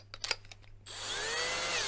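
Power drill spins up to a steady whine after several short knocks and handling sounds, running continuously and fairly close in a garage workshop.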